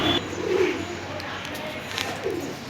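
Double factor yellow opaline lovebirds at a colony farm give a few soft cooing calls, close by against a steady background murmur.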